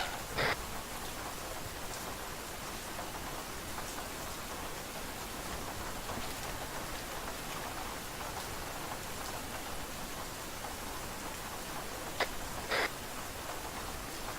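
Rain hitting objects in the military video game ArmA 3, a dense, even hiss of downpour throughout with a couple of faint, brief clicks.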